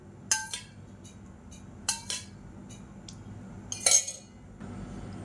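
A cooking pan is picked up and set down in a kitchen, heard as three separate metallic clanks and clinks spaced about two seconds apart against quiet background noise.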